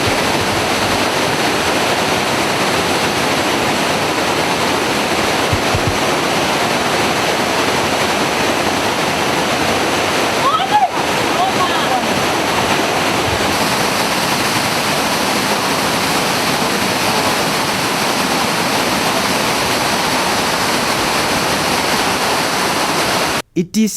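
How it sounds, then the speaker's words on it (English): Loud, steady roar of the 15-foot Karura waterfall, a dense continuous rush of falling water filling the whole stretch without a break, ending with a brief abrupt cut. "A kilometer away from the caves lies a spectacular 15-feet Karura waterfall."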